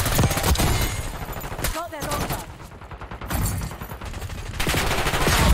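Rapid automatic gunfire in the Call of Duty: Black Ops 6 shooter, dense bursts that rattle loudly, pause briefly, then resume, with a player talking over parts of it.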